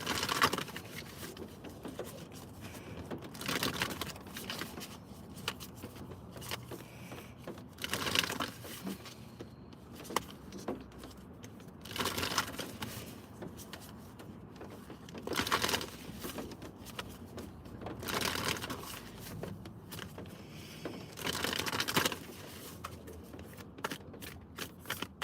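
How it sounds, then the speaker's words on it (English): A deck of cards is shuffled repeatedly, with rhythmic riffling bursts and soft flutters recurring every few seconds, close and fairly quiet, with no talk. "I'm gonna shuffle this real quick."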